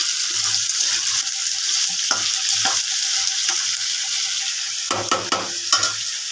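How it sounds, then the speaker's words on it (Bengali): Potatoes browning in a pan give a steady close sizzle, broken by repeated scraping strokes of a spatula stirring them, with no one speaking. "আলুটা একটু লাল লাল করে ভাজবো।"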